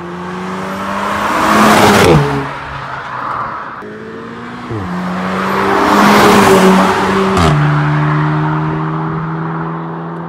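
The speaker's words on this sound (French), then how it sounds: "vous avez vraiment l'échappement S3. Mais c'est un bruit qui est extrêmement agréable aussi" Audi S3 exhaust heard from a driven car, engine note rising through two accelerations with abrupt drops at each gear shift and a sharp crackle on the shift, loud and close, no talk.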